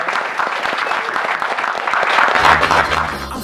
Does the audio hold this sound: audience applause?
yes